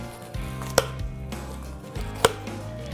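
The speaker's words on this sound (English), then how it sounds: "And run the knife one by one down the bones" A knife working along wagyu rib bones to French them, two sharp knocks against the bones over a low steady hum, close by with no talking.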